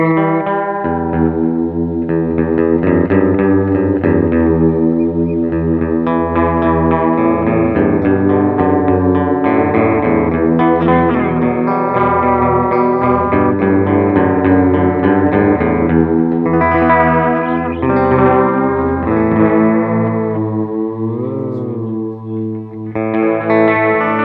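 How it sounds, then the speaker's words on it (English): Electric guitar run through a Madbean Total Recall kit, a clone of the EHX Deluxe Memory Man, switched to vibrato. Sustained chords and melodic lines waver in pitch and stay loud and steady throughout, with no voices. "And then if you flick it to the other position, you get the vibrato sound."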